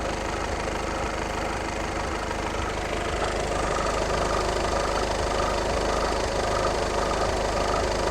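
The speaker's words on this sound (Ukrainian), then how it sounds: "якийсь ролик підшумлює" Volkswagen Golf 7 engine idling, with a roller whining faintly over a steady, even low hum close by. The sound runs unchanged throughout, with no talk.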